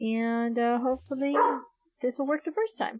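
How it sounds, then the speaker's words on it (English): A pet dog barks and yips excitedly in the room, close and fairly loud, overlapping with a person talking. "Sorry about the dog barking."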